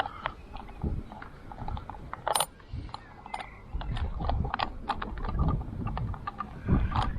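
Menabo Brio roof bar clamps on an MG ZS EV being tightened with an Allen key, giving a run of small ratcheting clicks and metallic ticks close by, spread irregularly over a low background rumble.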